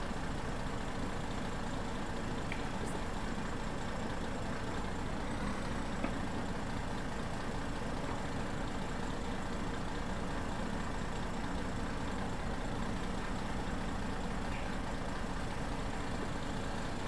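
Bus engine idling in the OMSI 2 driving simulator, a natural-gas city bus on snowy, slippery roads, a steady low rumble running unbroken throughout with no talk.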